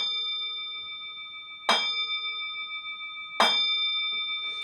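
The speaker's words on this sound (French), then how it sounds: "on va faire sonner le bol tibétain" A Tibetan singing bowl is struck twice, each strike a bright metallic hit that opens into a long, steady shimmering ring with several clear sustained tones, close and resonant, with no voices over it.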